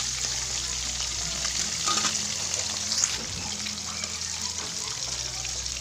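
Fish fry in hot oil in a pan, giving a continuous close sizzle with scattered pops and spatters of oil, with no voices.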